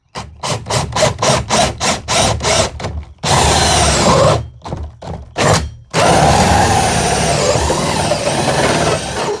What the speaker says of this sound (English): get my hole saw ready